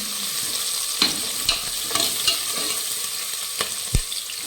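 Ginger garlic paste fries in a pan with a soft steady sizzle, punctuated by scattered clinks and scrapes of a spoon stirring, fairly quiet and close with no talking.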